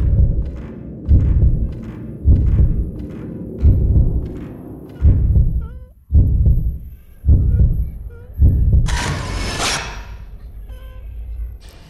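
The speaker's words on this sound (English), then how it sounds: "All we have to do is follow the pounding of the heartbeat." Heavy, pounding heartbeat in Fatal Frame 2, about eight slow, evenly spaced deep thumps, loud and close, followed by a sudden hissing burst near the end.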